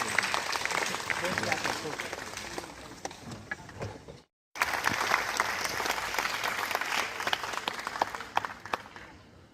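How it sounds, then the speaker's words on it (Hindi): Sustained applause from an audience thanks a departing minister at a university film festival, with dense continuous clapping across the whole stretch and a brief cut partway through. "एक बार जोरदार तालियों से फिर से उनका धन्यवाद करें"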